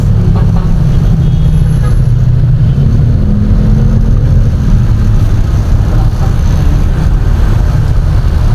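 Rainy road traffic in Sandigan with cars and engines idling and rumbling nearby, a heavy low drone that swells slightly as a vehicle moves, loud and close throughout.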